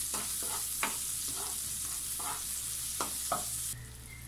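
Garlic and onion frying in an unwashed pan, a steady close sizzle with a few brief stirring scrapes and clicks spread through, no talk.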